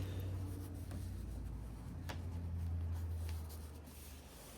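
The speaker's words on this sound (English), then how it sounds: "I'm going to roll those seams flat" Sewn fabric seams rolled flat by hand, a steady soft rubbing and brushing of fingers over cloth, close and continuous under a low hum, with a few faint scratchy strokes and no talking.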